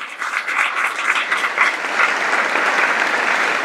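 Sustained applause at a child's birthday celebration, dense steady clapping from a gathered crowd that swells slightly and holds for several seconds without pause.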